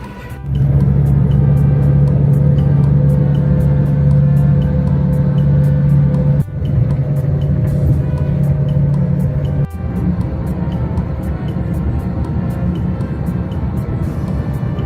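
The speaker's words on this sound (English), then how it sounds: "I'm now sitting on the bus." A bus travelling to Nicosia, Cyprus hums with a constant engine drone heard from inside, broken by a couple of sharp bumps and rattles as the ride continues.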